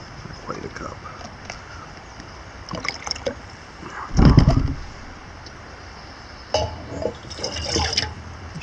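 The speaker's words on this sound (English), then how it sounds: "I should have poured out of my Nalgene bottle so less messy than pouring out of the thing here." Water pours from a container into a measuring cup at a northshore campsite, in short splashy bursts, close and moderately loud, with a person talking in between.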